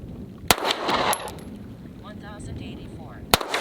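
A pistol fitted with a chunk port compensator fires 124 grain rounds, and two sharp, loud cracks land about three seconds apart at an indoor range, with low rumble and faint chatter between them.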